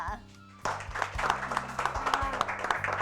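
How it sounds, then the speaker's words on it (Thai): A room of coworkers applauds to welcome a new secretary joining Ocean Real Estate, a burst of clapping starting abruptly after a brief quiet moment and continuing steadily, with voices mixed in underneath. "ขอเสียงปรบมือต้อนรับน้องด้วยค่ะ"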